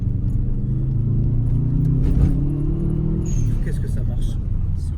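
Subaru car engine heard from inside the cabin as a steady low rumble while people talk over it, with a brief higher hiss and rattle near the end.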